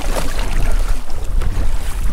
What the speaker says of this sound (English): And still paddling. And paddling. And paddling some more.